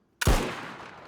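A single sharp rifle-like gunshot from the DayZ survival game, close and loud with an abrupt onset and a short decaying tail, heard alone.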